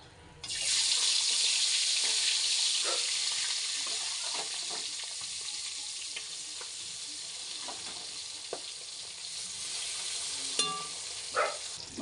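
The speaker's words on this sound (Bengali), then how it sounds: "বাদ বাকি মাছগুলো ভেজে নেব।" Pabda fish frying in hot oil, a loud, steady hiss and crackle starting abruptly and continuing throughout, with occasional spatter pops and utensil clicks near the end, no voices.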